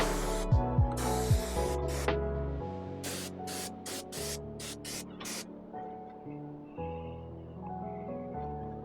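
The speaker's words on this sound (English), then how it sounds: "So I can get away with spraying this without putting anything up." A sprayer spits wood stain onto an outdoor deck in a series of loud, hissing bursts of varying length, close by, with mechanical clicks from the sprayer between the bursts.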